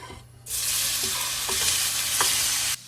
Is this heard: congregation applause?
no